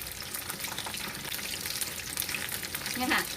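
Chicken wings fry in plenty of hot oil, a steady dense sizzle with faint stirring and utensil clicks, alone and close.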